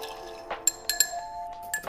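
Ice clinks and rattles against a glass as a rye cocktail made with Bulleit and Rittenhouse rye and a splash of syrup is stirred, giving several bright, close chiming knocks in an uneven rhythm.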